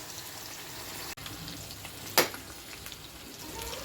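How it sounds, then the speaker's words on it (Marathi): Muthiya dumplings frying lightly in hot oil, a steady close sizzle with soft crackling, one brief sharp clatter partway through, and no talking. "तर आता या तेलात मुठिया तळून घेणार आहे हलकं"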